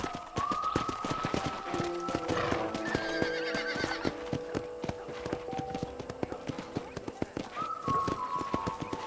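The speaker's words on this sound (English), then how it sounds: "let's see if you can still ride a horse" Galloping horse hoofbeats in Red Dead Redemption, rapid rhythmic clip-clop close up with repeated neighing and whinnying over a background of faint music.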